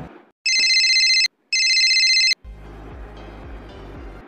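An outgoing phone call rings back with two long electronic ringing tones separated by a short gap, then a line connects and a soft rhythmic hum follows.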